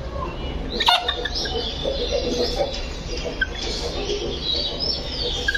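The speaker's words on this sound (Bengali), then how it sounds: "একবার আপনাদেরকে ফার্ম মুরগিটা দেখাই" A farm chicken clucks and calls close by in a coop, with a sharp burst near the start followed by intermittent chirpy clucks over a busy backdrop of other birds.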